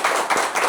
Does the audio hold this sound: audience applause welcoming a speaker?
yes